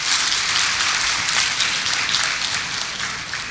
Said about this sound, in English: We have to clap for him.